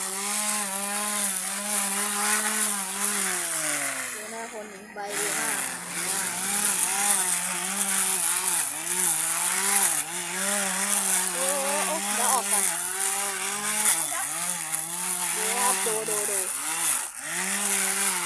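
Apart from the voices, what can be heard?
modified grass cutter machine running and cutting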